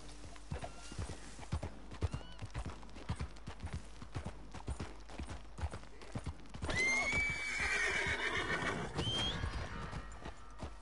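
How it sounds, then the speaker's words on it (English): A horse in Red Dead Redemption 2 clip-clops with steady hoofbeats, then lets out a loud, drawn-out whinny midway before the trotting continues, with no speech. "Why is my horse not following me?"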